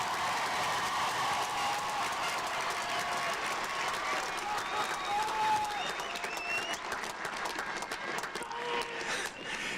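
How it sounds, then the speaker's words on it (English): Sustained applause from a large crowd at a 2023 Hobbs High School commencement ceremony, thick steady clapping with faint whistles and scattered cheers, gradually thinning toward the end. "Let's give these students a big old round of applause before we get started,"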